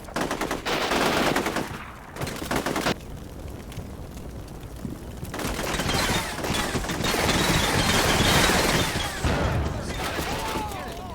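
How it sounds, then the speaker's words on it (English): Video game Combat Mission Shock Force 2 battle ambush with heavy gunfire and grenade blasts, loud bursts of automatic fire and explosions in dense clusters, broken by a short quieter gap, with a voice talking over part of it. "Immediately a lot of incoming fire on the south side."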